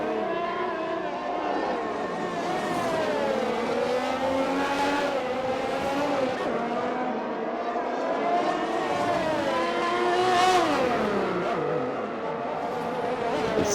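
Simulated Formula 1 race car in a video game at the Belgium circuit, spinning on overheated tyres: a loud, continuous engine whine that swoops up and down in pitch as revs surge and drop, heard alone.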